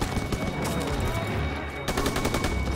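Enemy machine guns dug in at a barn in Call of Duty WWII fire sustained, rapid bursts. The rattle is loud and continuous, with shouting in the background.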